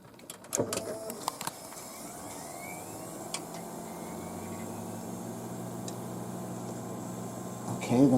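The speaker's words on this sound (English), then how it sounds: "the motor's running on the fan" Graphics card fan motor, just repaired, spinning with a faint steady whir and hum after a few clicks at start-up, quiet throughout.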